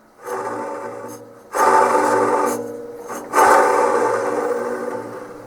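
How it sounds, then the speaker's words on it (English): An old drill press motor with a bad bearing runs in three loud starts, each a rough, rasping grind over a low humming drone that swells and then eases slightly. "the motor, like I said, has a bad bearing in it"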